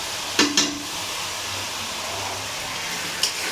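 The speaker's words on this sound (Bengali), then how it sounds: "ভালো করে এটাকে কষিয়ে নেব" Cumin, chili, ginger and garlic paste stir-fried with fried potatoes in oil for a fish kalia, giving a steady soft sizzle with a few sharp scraping stirs near the start and one more near the end, no talking.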